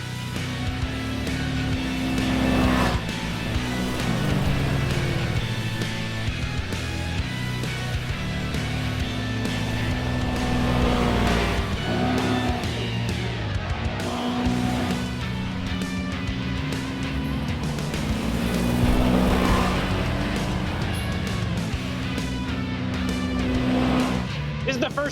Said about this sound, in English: It was my turn to drive the RZR.